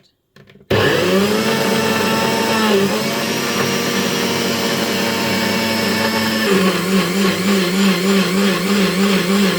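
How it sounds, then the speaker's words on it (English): A blender roars loudly and steadily chopping peppers and scotch bonnets, its motor pitch shifting as the blades cut through, with a pulsing grind toward the end. "my blender is ready to go. Peppers and scotch bonnets inside"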